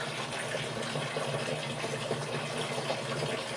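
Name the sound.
water turned on for plug saw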